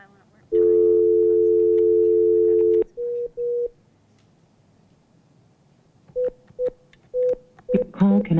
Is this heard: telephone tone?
yes